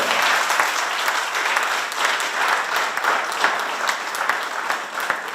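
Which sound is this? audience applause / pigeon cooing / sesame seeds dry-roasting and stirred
audience applause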